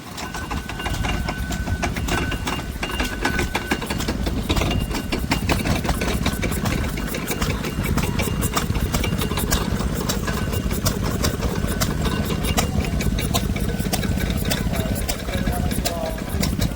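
An old Petter stationary engine with a pump attached runs at a vintage rally, chugging in a steady fast rhythm close by while people talk over it throughout.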